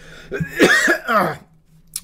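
A single harsh, close cough with a rough throaty rasp, followed by quiet and a short breathy sound at the end.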